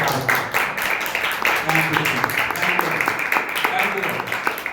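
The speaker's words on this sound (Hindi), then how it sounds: "ताली बजा के हम प्रभु के नाम को" A church congregation at an Easter service claps together in a steady, even rhythm of bright claps, while loud singing or praise voices carry on over the clapping.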